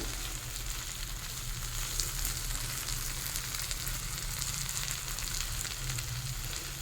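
Kulfi greens cooking with prawns in mustard oil in an open pan, a soft, even sizzle that continues steadily and fairly quietly throughout, with no talking.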